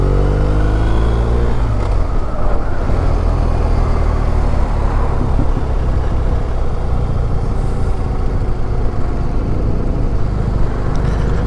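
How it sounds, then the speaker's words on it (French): A BMW R1250RS motorcycle rides along with a loud, continuous engine and wind roar, its exhaust giving off small pops mixed into the steady drone, with no voices. "il y a des petits retours au niveau du pot d'échappement"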